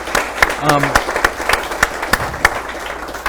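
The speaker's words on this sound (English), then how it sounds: "Round of applause for Don Stump and the entire North County Lifeline team" Audience applause at an awards event honoring a county lifeline team, with sharp, distinct claps from a modest crowd ringing out irregularly, a brief voice sounding near the start.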